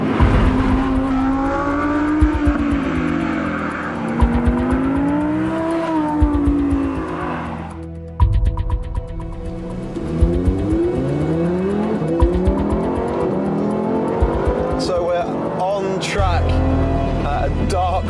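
An Audi R8 V10 Plus driving on the Portimao racetrack, its engine rising and falling through revs and gear changes, loud and close, with tire squeal at moments and someone talking over it.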